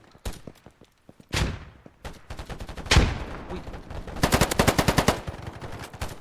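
Rapid bursts of AK rifle fire in a video game, loud and close, in several volleys with short pauses, plus a couple of heavier single shots.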